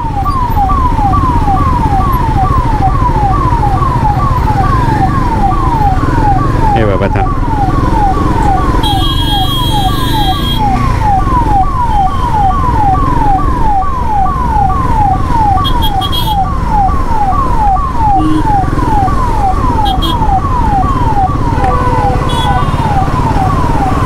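An ambulance siren wails steadily in a rising and falling pattern through heavy traffic, loud and close over the rumble of the engine, with a few brief horn-like tones and a short spoken exclamation.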